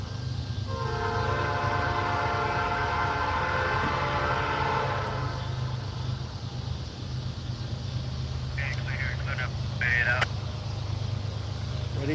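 A northbound Norfolk Southern freight train rumbles steadily past the Dalton rail yard, its horn sounding a long held blast early on, with a few brief voices speaking over the constant heavy rolling noise.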